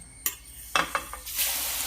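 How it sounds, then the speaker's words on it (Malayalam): Faint sizzling of asafoetida roasting in a hot pan with a few scraping stirs, then the sizzle swells into a steady, louder hiss. "ആദ്യം കായം ഒന്ന് വറുത്തെടുക്കാം."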